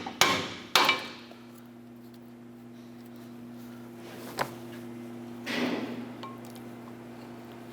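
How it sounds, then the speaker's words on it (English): A steel pry bar taps a brake pad backing plate on a 2008-2012 Honda Accord caliper bracket: two sharp metallic knocks, then a lighter tap and a softer scrape, ringing over a steady hum. "Just going to use our pry bar and tap the brake pad backing plate"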